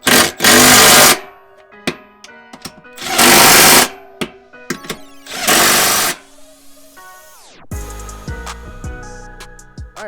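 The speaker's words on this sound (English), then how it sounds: "I'm actually going to tighten down the brackets to the frame first" An impact tool drives 14 mm silver bolts that fasten Go Rhino Dominator Xtreme D6 side-step brackets to the frame of a Ford F-150. It fires three loud, close bursts of buzzing, rattling whir, with quiet clinks and handling between them.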